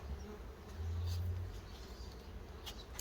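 Low, steady buzzing of honey bees fills the clip, swelling briefly near the middle, with no voices.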